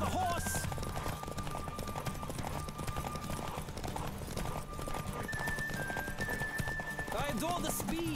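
Horse hooves clip-clop at a gallop throughout in The Witcher 3, with a neigh near the end, over game music and someone talking.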